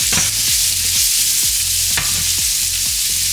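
Salt and pepper stirred into sautéing peppers and broccoli in a hot pan: loud, steady sizzling with a rhythmic scrape of the spoon about twice a second, no voices.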